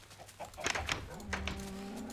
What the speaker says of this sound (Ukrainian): Маленька коровка ще не виросла